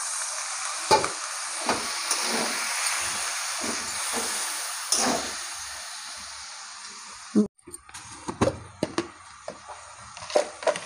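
Ginger and mustard spice paste sizzles and hisses loudly in a pan for a Bengali fish curry, then water poured in cuts the frying to a burst of steam, followed by spoon stirring and clinks.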